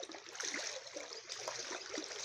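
Knee-deep floodwater surrounds a locked house after nearly two weeks of flooding, producing a quiet, continuous trickling and gentle lapping with no voices.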